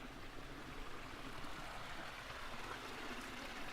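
Water flows steadily through channels running along both sides of a street in the quiet castle town of Obi, Miyazaki, a continuous gentle trickling rush heard alone at moderate level.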